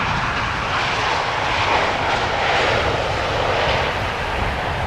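A Transavia airliner lands at Amsterdam Schiphol Airport, its engines a loud, steady roar that holds close and continuous throughout with no voices.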